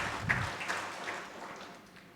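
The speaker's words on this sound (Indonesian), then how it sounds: "Yang mau menaati kebenaran berikan tepuk tangan meriah buat Tuhan kita" Church congregation at an online Sunday service clapping together, a soft diffuse patter of many hands, fairly faint and distant, fading out gradually.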